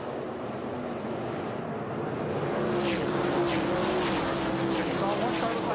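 Sprint cars roaring around the Bristol dirt track at the start of a 25-lap World of Outlaws A-Main, engines droning loudly and steadily with wind buffeting, under commentary.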